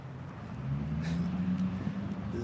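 A loud vehicle, called a truck, rumbles past on a street, a steady low drone building after the first half second and holding strong, with a brief brighter whoosh near the middle.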